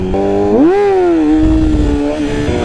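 Yamaha R6 sport motorcycle engine held in first gear for wheelie practice, a loud close rev that swoops up in pitch, then holds a steady high drone before dipping slightly near the end.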